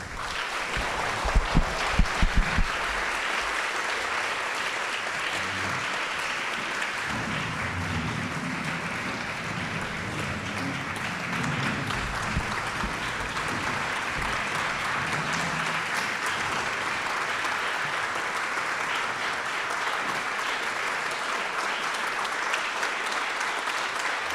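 A dinner audience at a fellows' closing dinner gives Phyllis Rappaport sustained, even applause that fills the room for a long stretch at steady moderate loudness.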